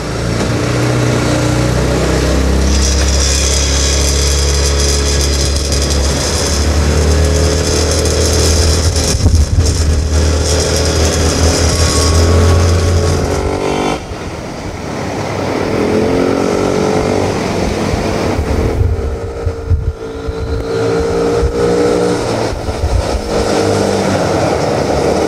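A 200cc mini Jeep Willys JW1501 setting off, its small engine droning steadily and loudly up close as it drives, with brief dips and rattles along the way and no talk.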